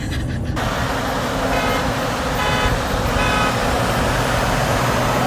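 Vehicles towing drift cars on a highway give a steady, loud road and engine roar with wind rush throughout. A brief horn-like tone cuts in around the middle.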